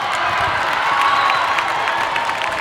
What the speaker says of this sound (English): Great crowd down here. Stands are full.